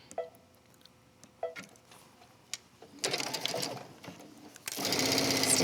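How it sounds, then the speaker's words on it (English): A sewing machine runs a straight stitch on a wrap dress, starting with a few quiet taps and short bursts, then settling into a louder, sustained whirring run that grows steadier toward the end. "This one, we're stitching, I'm gonna go back just to a straight stitch."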